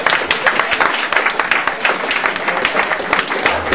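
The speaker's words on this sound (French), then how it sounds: "Je crois qu'on peut tous vous applaudir ce soir." An audience applauds at an evening gathering, dense continuous clapping filling the room at moderate loudness from start to finish.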